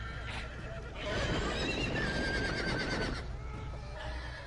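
Horses whinny in a medieval Game of Thrones Telltale video game scene, with several neighs rising over a steady, busy background mix that also carries clip-clop hooves and faint voices.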